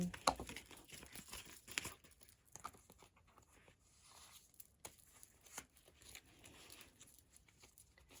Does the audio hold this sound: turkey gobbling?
no